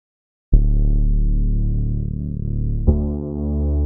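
A basic waveform synthesizer patch on the Cradleapps The Prince app sounds as two sustained, buzzy low notes, the second starting higher and brighter, steady and alone after a moment of silence.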